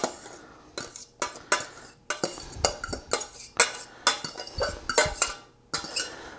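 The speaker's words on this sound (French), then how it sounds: "On peut le brasser un petit peu pour le détacher." A utensil stirs and breaks up cooked couscous in a pot, producing close, irregular metallic scrapes and clinks in quick repeated strokes with short gaps between them.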